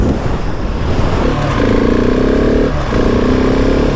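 A 2020 Husqvarna 701 SM single-cylinder motorcycle accelerates hard up through the gears: a close, loud engine note climbs, cuts briefly at a gear change, then rises again on the next gear, with no talking.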